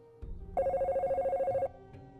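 A telephone rings in one sustained electronic burst of about a second, loud and close, with faint low background noise around it and no one talking.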